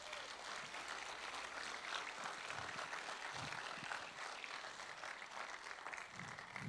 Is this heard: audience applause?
yes